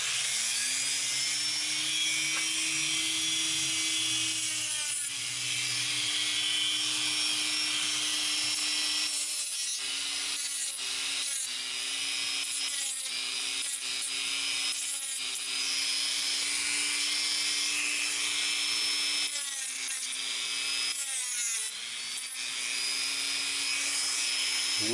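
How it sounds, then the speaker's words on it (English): A high-pitched Dremel rotary tool whines steadily, its tone dipping in several short bursts as a sanding bit grinds the edges of a coin, continuous and close. "I'm going to start with this sanding bit here, and I'm going to work on the edges"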